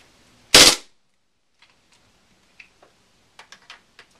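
A KWA airsoft gun fired in semi-auto gives one sharp, loud crack, followed by a few faint, scattered mechanical clicks.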